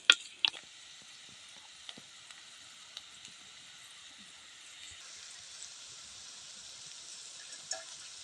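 Onions and green chillies sauté in a pan with a soft, steady sizzle, and a few sharp stirring clicks land near the start.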